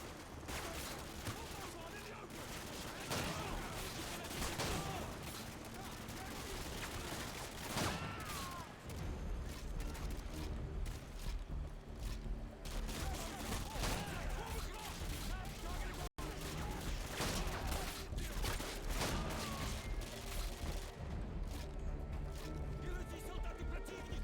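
Call of Duty: Modern Warfare 2 firefight with machine gun fire from L-86 guns, 240s and RPGs, dense continuous gunfire and explosions throughout, loud and busy under game radio chatter.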